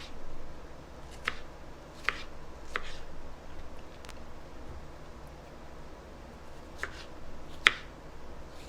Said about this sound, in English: we'll just keep slicing my strawberries